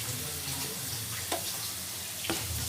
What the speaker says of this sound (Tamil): இது கோல்டன் ப்ரௌனில் வறுத்து எடுத்துக்கலாம்.